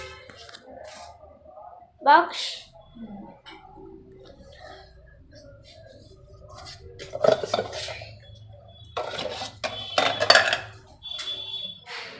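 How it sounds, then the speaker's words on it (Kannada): Metal tiffin box pieces and dishes clink and clatter in a home kitchen, a few sharp close knocks and scrapes spread out between quieter handling, while a person talks at times. "ಇದು ತಾಚಿನಿ ಬಾಕ್ಸ್"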